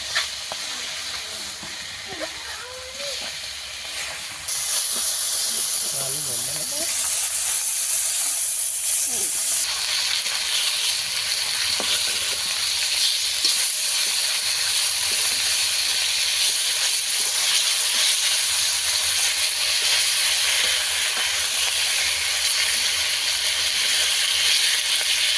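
Tengra fish frying in hot oil, a steady broadband hiss and sizzle that jumps louder after a few seconds and then holds constant and close throughout.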